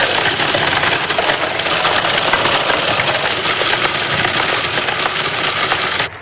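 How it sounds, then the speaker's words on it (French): Food processor pulverizing biscuits: a loud, steady motor whir with a gritty grinding edge runs continuously close by, then cuts off abruptly at the very end. "je vais pulvériser les biscuits dans mon robot culinaire"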